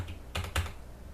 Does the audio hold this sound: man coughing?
no